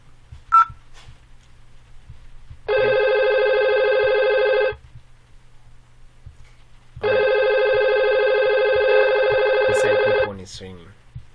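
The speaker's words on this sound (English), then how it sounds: "Okay, this one is ringing." A VoIP phone on a Cisco router setup rings in two long, steady electronic bursts separated by a pause, loud and close. Brief clicks and faint sounds come before and after the rings.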